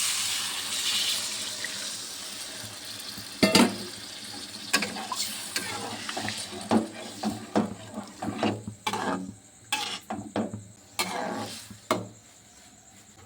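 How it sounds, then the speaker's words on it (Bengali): Water poured into a frying egg curry gravy with potatoes, splashing and sizzling in the pan, followed by a series of irregular stirring scrapes and clinks that come and go up close. "খুব ভালো করে কষে নিয়েছি, ঝোলের জল দিয়ে দেবো।"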